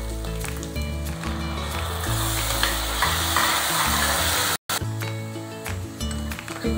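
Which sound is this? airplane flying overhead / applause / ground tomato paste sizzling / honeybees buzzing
ground tomato paste sizzling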